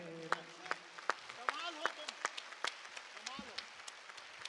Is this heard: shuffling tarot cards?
no